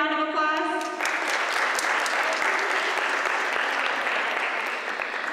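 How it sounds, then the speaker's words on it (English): A teachers' conference audience bursts into a full, steady round of applause right after a short musical sting, sustained and even throughout without anyone talking. "So can we give them another round of applause?"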